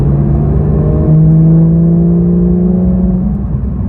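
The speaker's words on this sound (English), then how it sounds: "we've got our loud exhaust" A Porsche 911 GT3RS with loud exhaust in PDK Sport mode drones steadily under load as the engine note rises smoothly through a gear, heard from inside the car with no talk.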